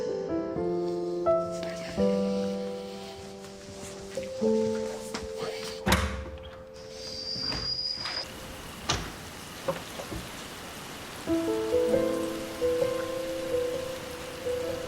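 Rain patters steadily on a surface, with a few thuds and a sliding door noise scattered through.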